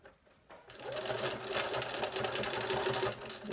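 A sewing machine runs steadily while stitching the last seam of a fabric mask, starting after a brief quiet moment, then a loud, close, continuous mechanical whir with a rapid needle rhythm that holds for several seconds.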